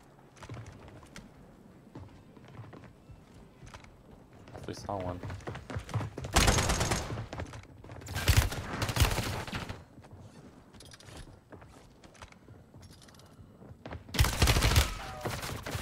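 Bursts of automatic gunfire from a full-auto FTAC Recon rifle in Call of Duty: Warzone arrive in several loud, clustered volleys with quieter gaps between, under and between players talking.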